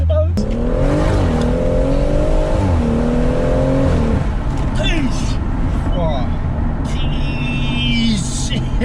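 A tuned 450 bhp stage 2 BMW M140i revs hard, its engine pitch climbing and dropping in several sweeps while exhaust crackles and pops cut through, loud and close, with people talking over it.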